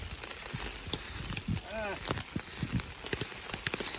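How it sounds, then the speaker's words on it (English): Rain falls on a hiker on the Appalachian Trail, a faint patter of drops under walking and voices, with people talking throughout. "It's a rainy day, you know, slow and steady."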